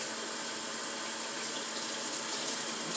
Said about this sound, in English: Some hot water going.